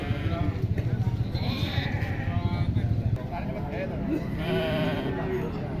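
Troli sheep bleating at a livestock market, a few short bleats near and far under ongoing talk from a seller, with crowd noise behind.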